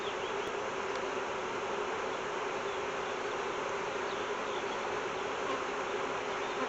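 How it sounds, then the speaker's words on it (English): A dense, continuous buzz of many honey bees inside a crowded hive at close range, steady and unbroken throughout. "just for the sheer number of bees in here"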